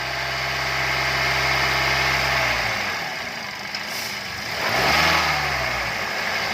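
Car engine with gasoline direct injection held at 2,000 RPM during an intake valve cleaning service, a loud steady close hum that dips slightly and then swells again, no talking.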